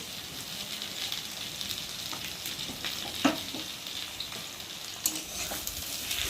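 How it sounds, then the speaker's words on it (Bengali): A spice paste of ground cumin, mustard, tomato and chili with salt sizzles steadily in a hot pan, with occasional stirring scrapes and soft pops over the continuous frying hiss. "মশলাটাকে ভালো করে ভেজে নেব"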